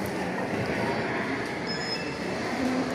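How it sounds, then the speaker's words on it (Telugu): The train at Sapa station heading up toward Fansipan runs with a steady, dense mechanical rumble, close and continuous, with faint squeal tones and no clear talk. "అదే మనకి ట్రైన్."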